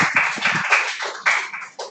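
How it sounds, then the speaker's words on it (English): A classroom claps in a short burst of a few uneven hand claps, close and fairly loud, lasting under two seconds. "Claps."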